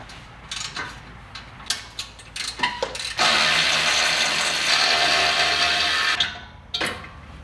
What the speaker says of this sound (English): So we'll unbolt this flange here now.